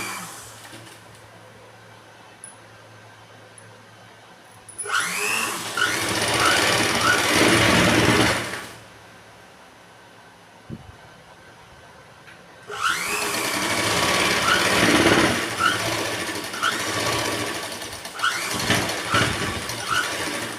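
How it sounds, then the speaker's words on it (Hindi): Sewing machine stitching boat neck kurti fabric runs in two loud bursts of rapid mechanical whirring, separated by quiet pauses with a faint hum and a single small click. "यहाँ से हम इसकी सिलाई शुरू करते हैं"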